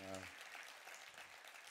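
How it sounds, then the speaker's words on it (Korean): A church congregation claps to welcome the pastor to the pulpit, a soft, diffuse wash of applause filling the sanctuary after a brief musical tone fades. "목사님 나오실 때 큰 박수로 환영해 주시기 바랍니다"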